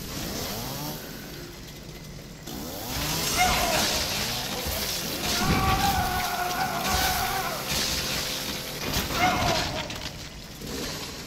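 Chainsaw in Resident Evil 7: Biohazard, a revving motor that rises and falls in pitch, loud and close, with a voice talking over it.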